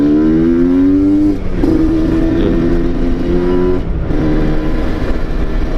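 A Yamaha RX-Z motorcycle fitted with a swapped Kawasaki Ninja RR Super KIPS two-stroke engine revs loudly and close up, its pitch climbing and dropping through a few short, sharp blips of the throttle.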